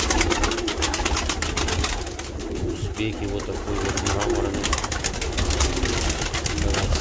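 Pigeons of Mordovian white and other breeds cooing in a loft, a dense continuous chorus of throaty coos and fluttering close by, with someone talking over it throughout.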